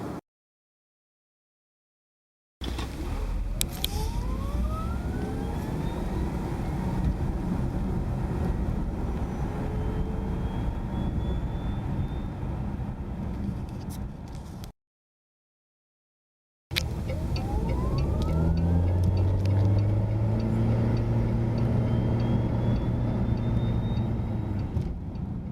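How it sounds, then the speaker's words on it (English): Fisker Karma hybrid car accelerating hard in 0 to 60 tests, steady road and wind roar with a rising electric whine sweeping upward, heard in two separate runs divided by a short silent gap. "let's go ahead and do some 0 to 60 tests, both in stealth mode and in sport mode"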